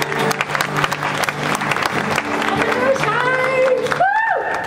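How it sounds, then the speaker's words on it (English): An audience at a Disney media event opening an ice rink gives loud, sustained applause, a dense clatter of many hands, with voices rising over it toward the end. "please give a warm round of applause for our two friends from Disney Toon Studios"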